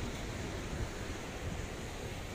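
Ocean surf at Ngliyep beach, also called Gunung Kumbang beach, a quiet private cove: a steady, loud broadband wash of breaking waves with wind buffeting the microphone and no voices.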